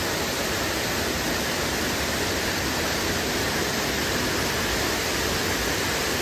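Water pours down from a hillside as a small waterfall on Koh Rong, Cambodia, giving a steady, dense rushing hiss with no breaks.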